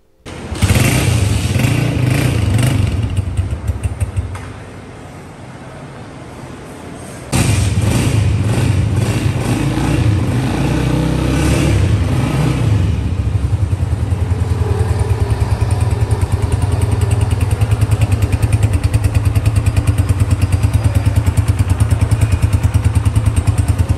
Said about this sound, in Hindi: अब करते हैं इसका साउंड टेस्ट